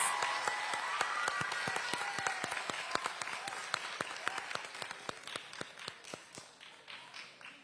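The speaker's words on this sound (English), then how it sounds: "Let's give them another round of applause." Audience applause at a student math bee in Orange County, a dense burst of clapping that gradually thins out toward the end, with individual claps standing out near the close.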